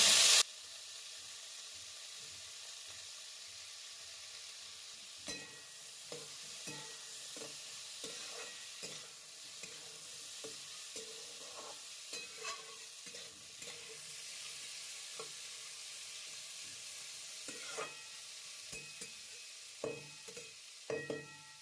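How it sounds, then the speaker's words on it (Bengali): Green beans and peas frying in a pan, a steady hissing sizzle close by with frequent stirring scrapes and utensil taps spread across the whole stretch. "আমার সবজিগুলো সব ভাজা হয়ে গেছে"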